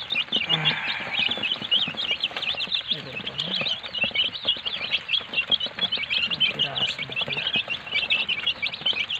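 Young chicks in a pen give a constant chorus of high, close chirps and peeps, with a person talking quietly underneath at times.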